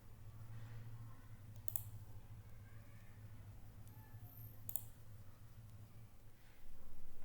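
A computer mouse clicks twice, sharp isolated clicks about three seconds apart over a steady low hum while setting up a HivePress WordPress site, with no talk.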